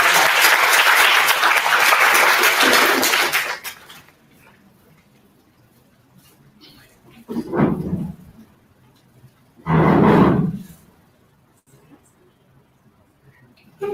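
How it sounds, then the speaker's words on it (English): Applause from a conference audience after a panel is introduced, a dense burst of clapping lasting a few seconds, then fading into quiet with brief scattered noises. "So big round of applause."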